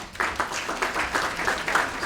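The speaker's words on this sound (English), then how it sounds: "Let us give him a clap as he comes" A county government forum audience claps steadily as a guest walks up, a moderate mass of hands with soft rhythmic swells, somewhat distant in the room.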